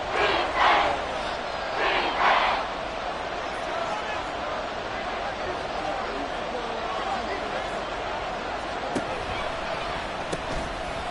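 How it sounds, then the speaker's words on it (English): A football stadium crowd roars in a loud, continuous wash of noise, swelling in short bursts near the start before settling into a sustained din, with a commentator's voice heard over it. "This crowd doing all they can."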